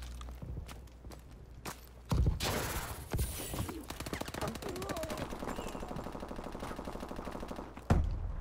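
Repeated game gunfire during a clan war match in an online shooter, with sharp shots and rapid bursts cutting through steady background ambience; a voice talks faintly underneath at times.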